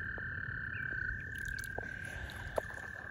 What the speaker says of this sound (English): I have captured El Toad